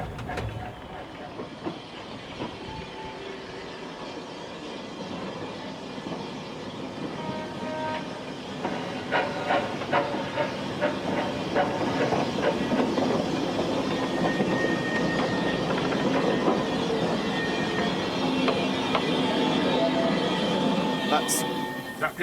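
Live steam model locomotive running at a model railway show, a continuous hiss from the injector over rumbling running noise and faint rhythmic clicking, with people talking nearby throughout.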